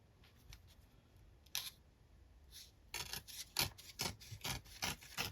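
Paper being trimmed for an altered book craft, a run of short scraping cuts and rubs that grows busier and louder, close and rhythmic, with no voices.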